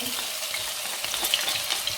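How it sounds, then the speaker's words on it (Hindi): Steady crackling sizzle of garlic and ginger frying in hot oil for Punjabi kadhi pakora, with sharper pops now and then; close and continuous, no voices. "ऑयल गर्म हो चुका है, इसमें लहसुन अदरक डाल देते हैं।"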